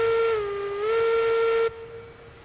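A steam locomotive whistle in the train game Railroads Online gives one loud, sustained shrill blast that wavers slightly in pitch, then cuts off abruptly, leaving a faint hiss.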